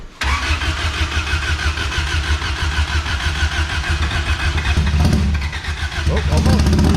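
A Bajaj Pulsar turbo motorcycle engine cranks and fires, then runs loud and close with a steady rumble that swells near the end, while voices talk over it.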